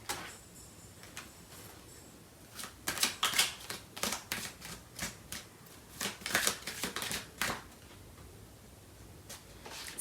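Tarot cards are shuffled in a run of crisp riffling bursts and soft flicks, close and fairly loud, with short pauses between the clusters of shuffling.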